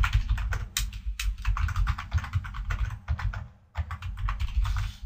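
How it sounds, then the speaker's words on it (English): Rapid typing on a computer keyboard, a dense close-up clatter of keystrokes in bursts with one short pause, no voice over it. "Sorry about my typing"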